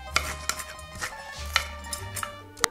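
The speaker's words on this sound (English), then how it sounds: "Let's cut the onion." A knife chops an onion on a board while a simple Italian sugo is prepared, giving sharp, distinct taps at an uneven pace, with light clinks of kitchenware around them.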